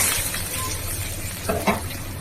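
Pieces of pond-raised katla fish frying in a pan, a steady low sizzle with a couple of brief clinks or scrapes near the end, no one talking.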